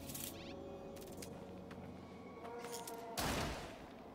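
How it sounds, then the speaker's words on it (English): A bolt caster weapon fires in the video game No Man's Sky, letting off rapid, loud bursts of energy shots with a heavier blast near the end. "Bolt caster shoots."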